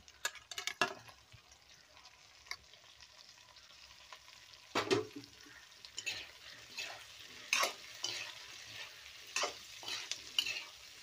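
Large-cut eggplant pieces being stirred into a tamarind leaf curry in a pan, quiet soft sizzling under intermittent scraping and clinking of a spoon against the pot, close and without talk.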